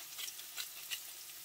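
Garlic sautés in olive oil with a soft, continuous sizzle and faint crackles over a short stretch, with no voices.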